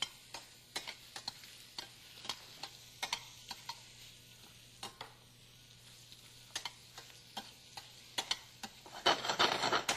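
Tasso sautéing in a pan over low heat, heard as a faint soft sizzle under sharp, irregular clicks and taps of a utensil, with a louder burst of frying near the end.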